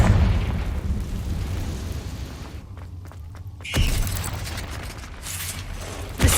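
A Confringo blasting spell detonates in Hogwarts Legacy, a sharp burst around midway followed by a crackling roar and a second hit near the end, over steady game ambience with clicking mechanical effects before the blast.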